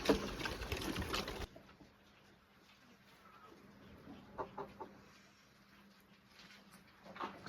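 A hen clucks in short, scattered bursts after a brief loud noisy opening, the calls fairly quiet and spaced out over faint background sound.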